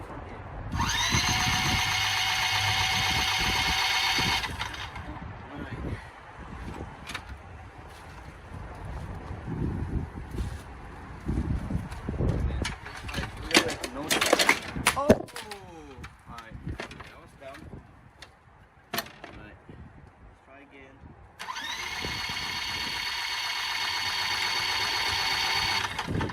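A used lawnmower engine roars loudly and steadily for a few seconds, cuts out during clanks, handling noises and talk, then runs strongly again near the end.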